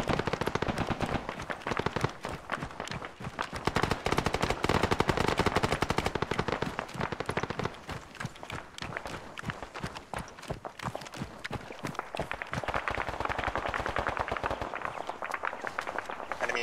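Sustained gunfire in the military shooter Arma 3, with dense bursts of automatic rifle and machine-gun fire crackling continuously for the whole stretch, loud and steady with no pauses.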